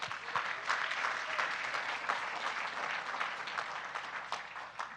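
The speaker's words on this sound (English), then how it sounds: "Round of applause for them." An audience at a startup demo day event applauds continuously, a dense, even wash of many hands clapping throughout, with no voices standing out.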